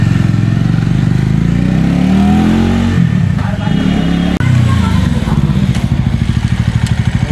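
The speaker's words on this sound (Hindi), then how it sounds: "संजय भाई अब जा रहे हैं मेरा 2022 मॉडल लेके डोमिनर, अब इसका भी टेस्ट राइड ले रहे हैं संजय भाई" A 2022 Bajaj Dominar motorcycle pulls away on a test ride in the hills of Jharkhand, its engine revving and fading steadily, with people talking over it throughout.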